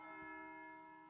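A monastery bell in the game Pentiment rings for Sext, a single sustained, faint tolling tone that decays slowly.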